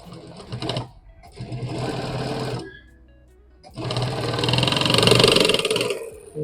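Sewing machine stitching the short side of a pouch made of leather-like fabric, running in two long loud bursts with a brief pause and a quieter gap between them, no talk.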